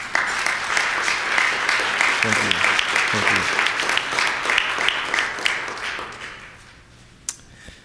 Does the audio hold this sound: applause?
yes